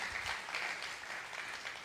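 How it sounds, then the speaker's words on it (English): Steady audience applause after a keynote presentation at a talk, a dense continuous clatter of clapping hands at even loudness throughout, heard from within the hall. "let's give our keynote speaker one more round of applause for such an energetic presentation"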